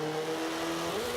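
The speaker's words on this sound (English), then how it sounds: "But just listening to the shift patterns here, I can kind of get an idea of what his gearing is." A race car engine in the Forza 5 racing video game drones at a steady pitch, then drops and climbs again as it shifts gears, heard moderately quiet with no voices.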